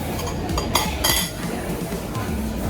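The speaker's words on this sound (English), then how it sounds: "I am busy cutting my steak" Cutlery scraping and clinking on a plate while cutting a medium-rare rump steak, with light metallic taps and knife strokes up close over steady background noise.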